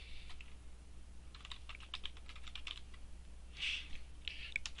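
Fingers tap on a computer keyboard in soft, quick bursts of clicks with brief pauses, faint and close in a quiet room.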